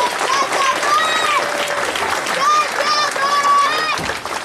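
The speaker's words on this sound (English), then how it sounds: "a big round of applause, please, for John Joe again" Audience applause at a homecoming presentation in Castletownshend: a crowd claps loudly and steadily close by, with cheers, whoops and voices mixed into the clapping throughout.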